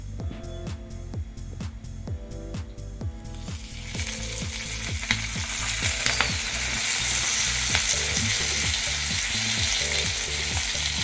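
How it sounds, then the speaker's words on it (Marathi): Oil hits a pan of roasted green chillies and breaks into a loud, steady sizzle that swells and stays dense, while a rhythmic mechanical clicking continues underneath from the start. "आता त्यामध्ये आपण साधारण 2 चमचे तेल घालून घ्यायचं"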